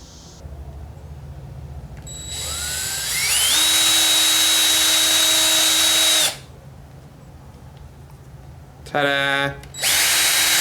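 A power drill spins up with a rising whine and bores steadily through a 1990 Mazda Miata door panel for a few seconds, then stops. A brief second burst follows, loud and close, with a short spoken exclamation between.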